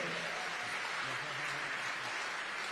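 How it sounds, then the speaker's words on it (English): Audience applause at the opening ceremony of the 2023 IBSA World Games, a blind sport event: a steady, even wash of clapping from a large crowd, fairly quiet and distant, with no talking. "And yes, a big round of applause."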